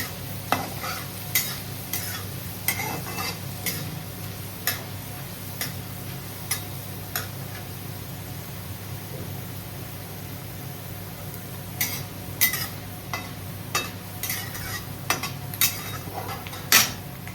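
Masala dosa filling, seasoned with asafoetida, is stirred in a pan. Bursts of quick ticking spoon taps and scrapes come in clusters, then pause and resume over a low steady sizzle, close by, with no speech.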